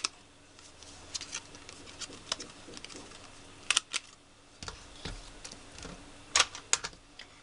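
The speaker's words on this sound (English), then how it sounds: "I'm going to take the 1/4 inch side and round the corners" A corner rounder punch, set to its 1/4 inch side, rounds the corners of a folded greeting card. Several sharp, close clicks and snaps are spread out, with faint paper handling between them.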